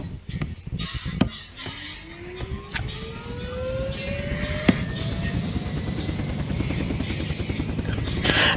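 A Hind attack helicopter engine in the video game Unturned spools up, its whine rising steadily in pitch as the rotor noise builds, with a few sharp clicks and thumps along the way.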